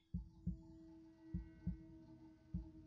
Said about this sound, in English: Oh yeah, that's a heartbeat.